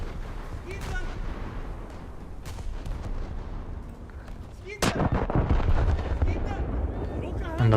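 Heavy naval gunfire from a Bayern battleship in a World of Warships battle: dense rumbling booms roll throughout, with a sharp loud salvo near the middle followed by sustained crackling blasts, while a voice talks over it.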